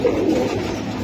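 High flyer pigeons give a soft, low, throaty coo, close and brief, with no other sounds over it.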